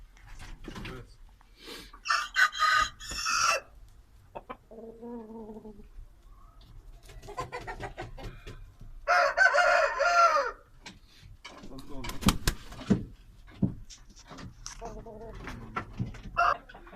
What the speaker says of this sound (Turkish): bu da bizim Tayland dediğimiz bir horoz